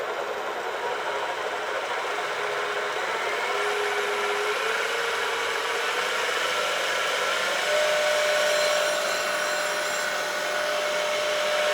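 A Tesla electric motor fitted in a 1969 Bronco conversion spins at about 1600 RPM, producing a steady, close whine with an airy rushing hum and a faint rising tone, no voices.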